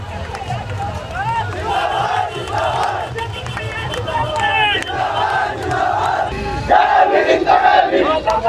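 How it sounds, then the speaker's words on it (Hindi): A large crowd gathered outside the Gwalior High Court over a Babasaheb Ambedkar statue shouts and chants loudly together, a dense roar of raised voices and babble that swells toward the end. "भीड़ लगी हुई है पूरी की पूरी"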